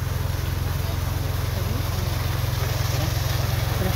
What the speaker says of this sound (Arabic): وانتم كما كتشوفوا ها هو الموتور ديال الماء